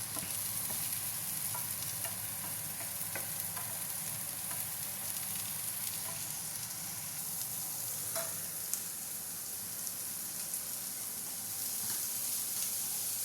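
Two chopped onions frying in a pan for mushroom masala give a steady, close crackling sizzle, with occasional spoon clicks over a continuous hiss and no voices.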